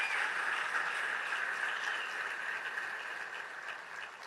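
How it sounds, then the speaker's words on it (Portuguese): A church congregation applauds in praise, a dense, steady wash of clapping from many hands that holds level and thins slightly toward the end, with no talking over it. "Dá uma salva de palmas ao Senhor."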